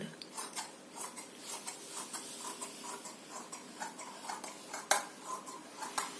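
Scissors steadily snipping through marked fabric for a long churidar, a quiet regular rhythm of close crisp cuts with a couple of sharper clicks.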